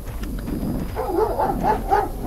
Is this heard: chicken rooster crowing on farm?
no